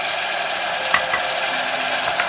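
Vermouth sizzles in a Feekaa multicooker with a loud, steady frying hiss, while a utensil stirs and scrapes the pot a few times, close by and with no talking.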